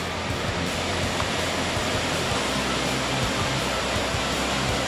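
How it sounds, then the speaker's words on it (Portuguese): A waterfall on the Bocaina trail pours in a steady, dense roar that fills the whole stretch evenly, with no breaks and no voices. "vamos entrar na cachoeira"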